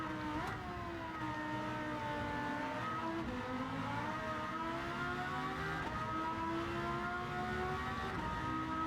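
A Porsche race car engine in the video game Gran Turismo 7 screams at high revs up to around 12,000 RPM, pitch rising and falling as gears shift, loud and continuous with no talking.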